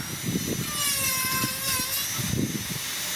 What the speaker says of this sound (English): I'm sorry for the wind noise, but I got no control over that.